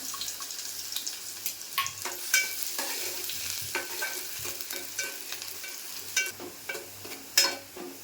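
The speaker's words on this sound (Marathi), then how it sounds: "फोडणीसाठी तेल तापत ठेवलं आहे कांदा घेतला आहे थोडा फोडणीला" Steady sizzling of onion frying in hot oil for tempering, with occasional stirring scrapes and soft crackles, close by and fairly quiet, no voices.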